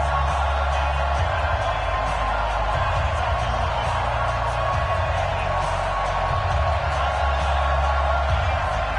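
A stadium crowd in an NFL video game ahead of a Baltimore Ravens versus Chicago Bears matchup roars steadily throughout, a dense continuous cheer with commentary-style speech over it.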